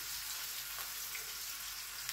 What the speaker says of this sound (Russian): Лучок забросила. Сейчас он немножко поджарится.